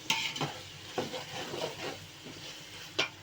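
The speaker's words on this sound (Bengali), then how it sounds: "আমার মশলাগুলো ব্রাউন কালার হয়ে গেছে দেখেন, এবার এই আলুগুলো ঢাইলে দিব" Potatoes sizzle in hot oil as they are stirred into browned spices in a pan, with steady frying crackle and a few sharp scrapes of a spoon against the pan, close and without talk.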